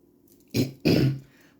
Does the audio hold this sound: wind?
no